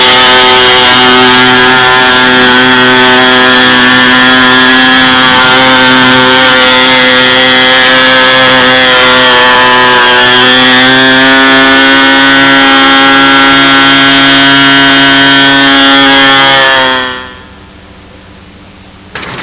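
A four-stroke engine from a model B-25 airplane runs on a test stand at a flying field, a loud, steady buzzing drone that holds for about seventeen seconds before cutting off abruptly into quiet.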